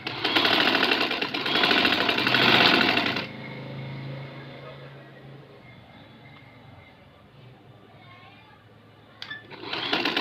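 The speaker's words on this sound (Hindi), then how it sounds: "जो हमारा डिज़ाइन की सिलाई है उसके ऊपर हमने सिलाई सीधी सीधी करनी" A sewing machine runs a straight line of stitching along a design strip for a trouser sleeve, whirring loudly for about three seconds before cutting to a quieter, fainter stretch of room noise, then starting again near the end.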